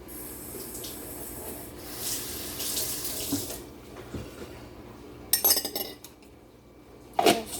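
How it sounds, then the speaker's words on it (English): Kitchen tap runs water over an item being rinsed in a sink while making iced coffee, steady splashing with a brief clink of dishware near the end, close and alone without talk. "I'm going to rinse this off."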